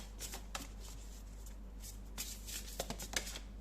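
Tarot cards are shuffled close by, a soft papery riffling and sliding with a few sharper flicks, quiet over a low steady hum, no talk.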